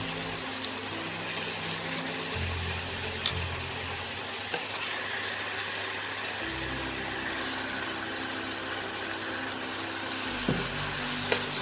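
Chicken pieces frying in a pan with spices for a coriander green chicken curry, a steady broadband sizzle holding throughout with low rumbling hums shifting underneath and a few faint clicks, no talking.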